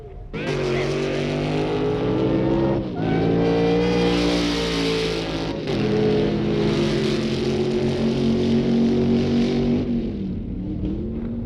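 A loud engine roars from a Corvette sports car running at the 1962 Winternationals drag races, revving hard in several long surges that fill the air close by, with no talk over it.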